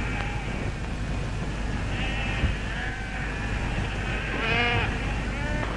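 Sheep bleating at a gate before being taken indoors for shearing, several wavering bleats from a flock over a dense, noisy background, one louder call near the end.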